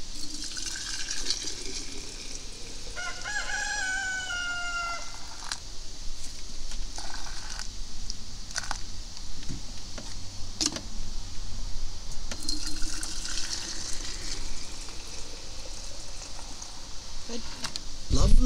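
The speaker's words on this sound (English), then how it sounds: "Just gonna try and pour it in here." Home-pressed apple juice pours into glass canning jars, a steady watery stream whose pitch rises audibly as each jar fills, with short splashes and clinks between pours.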